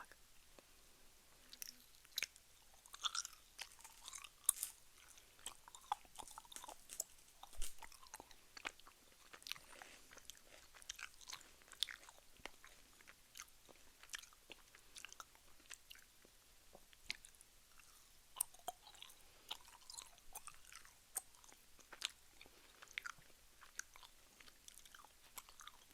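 Close, quiet chewing of gummies, with sticky squishes and soft bites repeating irregularly at an intimate, near-mouth distance, with no talking.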